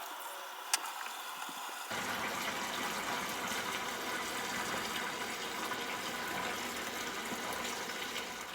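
Water rinsing a furnace electronic air cleaner filter: after a brief quiet start, a steady loud gush of running water sets in and continues evenly to the end, with no talk.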